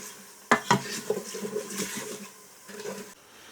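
A spoon stirs lamb meatball curry in a pan, giving two sharp metallic scrapes and knocks, then softer scraping over a gentle sizzle, close and moderately loud.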